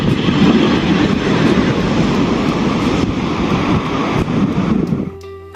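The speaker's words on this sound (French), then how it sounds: "J'admire les vagues s'enrouler." Ocean waves on the beach at Nazaré roll in as a continuous, loud rushing wash of surf with wind noise, easing off just before the end.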